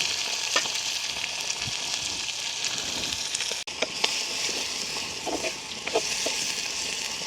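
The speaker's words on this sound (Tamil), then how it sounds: "வெங்காயம் பச்சை மிளகாய் உள்ளி எல்லாம் எங்களுக்கு ஓரளவுக்கு வதங்கிட்டுது" Onion, green chilli and garlic frying in a pan over a village cooking fire, with a continuous close sizzle and intermittent stirring scrapes.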